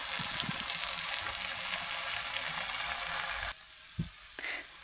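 Ground spices such as turmeric, chili powder and coriander-cumin powder sizzle steadily in a hot pan for Maharashtrian matki usal. The sizzling then drops lower, with a brief clunk of stirring, close up and with no talk.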